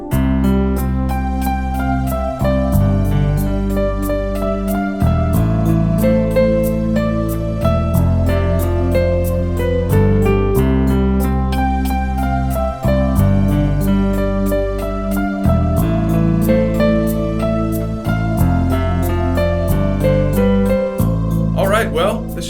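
A piano plays the chorus of a song in an advanced arrangement. Full, ringing chords move under a melody, close and continuous for over twenty seconds with no talking.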